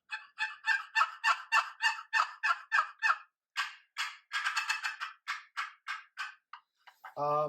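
Rapid series of raspy turkey yelps from a wooden box call, steady rhythmic strokes in two runs, ending with a brief low voiced sound.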